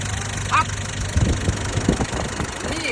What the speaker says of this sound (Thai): ตอนนี้เครื่องยนต์สตาร์ทแล้ว